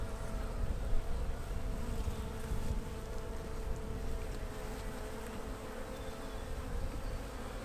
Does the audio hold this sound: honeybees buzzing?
yes